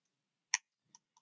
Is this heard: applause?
no